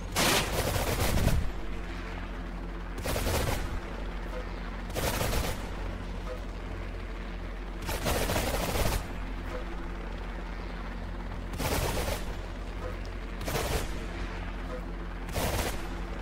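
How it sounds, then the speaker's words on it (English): Helicopter rotor drone runs steadily through a boss fight in the video game Arsenal, broken by repeated loud bursts of rapid gunfire roughly every two seconds. "That helicopter is back!"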